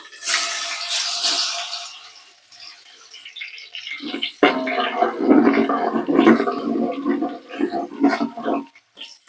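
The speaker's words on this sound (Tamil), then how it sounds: "பூண்டு போட்டு பொரிஞ்சதும்" Garlic fries in hot oil in a pan for a tomato pickle, giving a sizzling, bubbling crackle that swells and fades in uneven bursts, close by.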